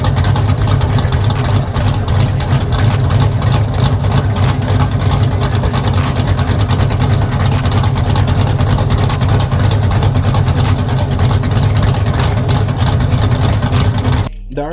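A Mazda RX-7 rotary engine idling choppily on its own, a loud, continuous low rumble with an irregular, lumpy pulse that holds steady before cutting off abruptly at the end.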